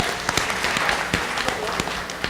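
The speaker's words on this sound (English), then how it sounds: "A round of applause for you guys." Book festival audience in a media room applauding, a steady patter of many hands with a few sharper claps standing out, moderately loud and continuous.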